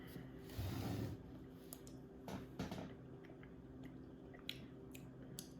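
Close, quiet chewing of creamy almond butter eaten from a tasting spoon, with a few soft wet mouth sounds and small clicks spread across a hushed background.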